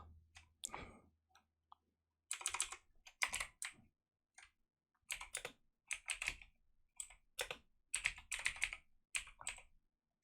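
Rapid bursts of clicky computer keyboard typing during mission scripting for a Dune 2000 map, coming in uneven clusters with short pauses between runs, close and clear with no talking.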